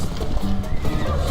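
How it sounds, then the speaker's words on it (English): A saddled horse in the video game Assassin's Creed Odyssey neighs and whinnies close by in a brief, breathy burst, with muffled hoof clatter underneath. "Is that a wild horse?"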